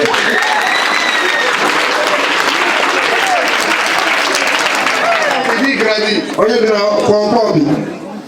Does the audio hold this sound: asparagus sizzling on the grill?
no